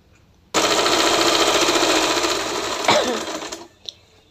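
A sewing machine stitches along the edge of salwar fabric with a loud, close, fast continuous whir that runs for about three seconds before stopping, followed by a few small clicks.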